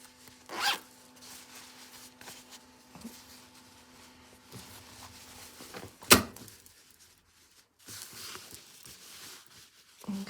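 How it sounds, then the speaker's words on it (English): An invisible zip is pulled up during sewing, giving a sharp, close zipping rasp midway, with softer fabric rustles and handling noises before and after in a quiet room. "Then I'm going to pull this zip up."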